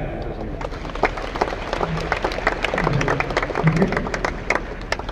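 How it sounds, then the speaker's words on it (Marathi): An audience applauds, a dense patter of clapping hands with crowd murmur and voices mixed in, close and fairly loud throughout. "आपलं जे साऊथ काका आहेत त्यांना टाळ्या द्या."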